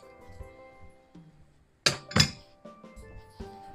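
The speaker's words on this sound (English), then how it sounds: "I've got the final 2 tablespoons of butter, which we're going to drop onto this cast iron skillet" Two sharp, close clinks land about a third of a second apart as two tablespoons of butter drop onto a cast iron skillet, with a quiet kitchen hum before and after.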